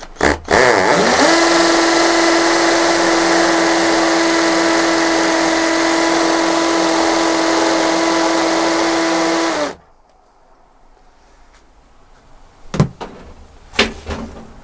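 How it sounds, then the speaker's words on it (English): A hammer drill with a dust collector attached bores a small hole, a loud steady whine that rises at the start and holds for about nine seconds, then stops, followed by a few light knocks. "You just push it against and drill."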